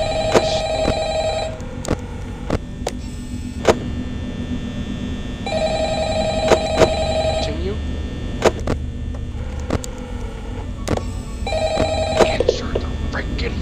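A telephone rings inside the horror video game Five Nights at Freddy's, sounding as repeated electronic ring bursts over a constant mains-like hum, with scattered clicks and a voice speaking over parts of it.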